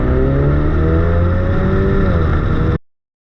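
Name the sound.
Ford Mustang EcoBoost engine revving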